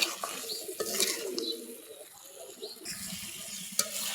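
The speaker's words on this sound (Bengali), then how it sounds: "মুরগি ভাজা প্রায় হয়ে গেছে।" Broiler chicken pieces fry in a pan on a home stove, giving a soft, steady sizzle broken by scraping and clinking as the pieces are stirred and turned, faint and close.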